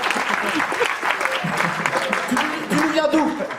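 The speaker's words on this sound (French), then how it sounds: "vous pouvez applaudir." Audience applause at a talent show in Tours mixes with voices, a crowd clapping under nearby talk and cheering that swells and fades across the moment.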